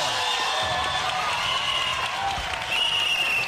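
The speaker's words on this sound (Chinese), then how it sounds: "掌声鼓励一下。" An audience at a magic show claps in a dense, sustained wash of applause that stays loud and even throughout, with a voice faintly underneath.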